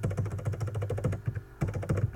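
Rapid typing on a computer keyboard produces dense, steady clacking of keys throughout, close and clear, with no talking.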